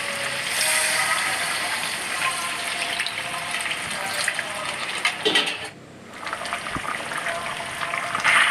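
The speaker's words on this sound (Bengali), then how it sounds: "এবার আমি গরম জল করা আছে সেটা আমি ঢেলে দেব" Hot water is poured into a pan of chicken curry as it cooks, making a steady, close rushing and sizzling wash of liquid that dips briefly before continuing.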